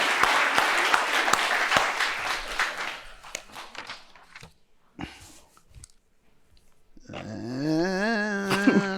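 A burst of applause from a studio audience, a dense patter of clapping that thins into scattered claps and then fades out, followed by a drawn-out, wavering vocal sound.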